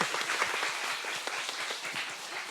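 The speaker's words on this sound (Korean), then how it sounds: "박수 한번 드릴게요." A seated audience applauds at a book concert marking a broadcaster's 29th anniversary, with continuous, moderately loud clapping throughout the short stretch.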